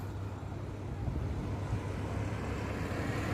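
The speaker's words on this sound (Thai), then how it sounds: "วันนี้ลมแรงเกิน" Strong wind blows outdoors on a bird-trapping trip in stormy-season weather, a loud, steady low roar buffeting the microphone throughout with no pauses.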